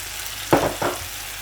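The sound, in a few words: sardines added to sizzling pan with bitter gourd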